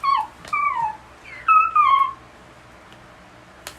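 A dog gives a few high, sliding whimpering whines in short bursts, close by and fairly clear, with quiet room tone between them.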